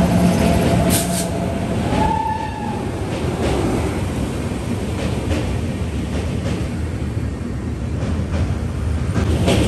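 The Nangal train rolls past near Bhakra Dam at Handola bridge, a steady, loud rumble of wheels and carriages throughout, with a brief squeal of metal partway through.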